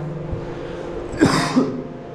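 A person coughs during a mukbang-style eating session, one harsh close cough followed shortly by a second, shorter cough, over a quiet room background.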